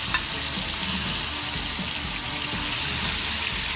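Marinated food sizzling and frying in hot oil in a home kitchen, a steady, dense hiss that runs loud and unbroken from start to finish, with no talking over it.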